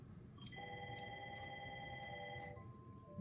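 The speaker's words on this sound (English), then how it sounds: "There's the phone going again." A steady electronic phone tone rings continuously for a few seconds over a low background rumble, fairly faint and without speech.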